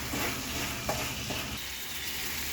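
Flattened rice poha upma is stirred in a pan over a soft, continuous sizzle, with a few sharper scrapes of the spoon against the metal.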